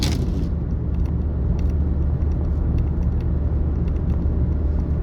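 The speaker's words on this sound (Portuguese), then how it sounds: "então você vê que é uma marcha lenta aí bem" A Ford Focus engine idles steadily at around 750 RPM, a continuous low rumble with a faint whir above it. A few light metallic clicks come through near the start.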